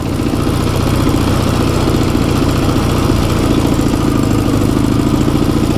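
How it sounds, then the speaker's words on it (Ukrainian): An MT motorcycle with a sidecar idles loudly and steadily nearby, a constant rough putter with no talking. "мотоцикл з коляскою продавати МТшку"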